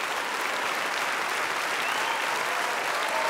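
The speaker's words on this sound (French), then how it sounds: "Regarde tout l'orchestre applaudir." An orchestra applauds a young performer in a Prodiges concert in Toulouse, giving dense, steady clapping that stays loud and continuous throughout with no talking.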